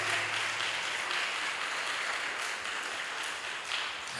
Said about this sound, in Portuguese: Mas aplauda mais forte, meu irmão.